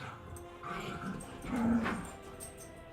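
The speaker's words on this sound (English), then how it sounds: "Have to excuse the dogs in the background," Dogs play around a living room in the background, giving small whimpers, yips and a brief growl at low to moderate level, with a faint electronic hum beneath and no one speaking.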